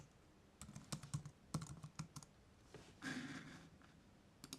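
Fingers typing on a computer keyboard, close and fairly quiet: bursts of sharp key clicks in an uneven rhythm, a brief pause, then a denser clatter toward the end, with no talking.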